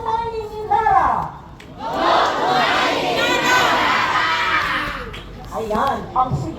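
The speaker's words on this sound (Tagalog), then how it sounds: "ang sigaw ng mga kabataan" A crowd of young voices shouts a loud anti-mining chant in unison in Filipino for several seconds, with scattered talking before and after.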